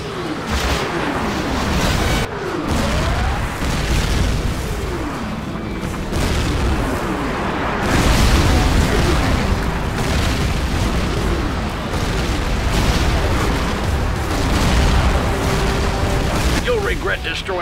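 Repeated explosions as an airfield is destroyed in the video game FireStorm, heavy booms and bursts rolling one after another at steady loudness throughout, with voices talking over the blasts.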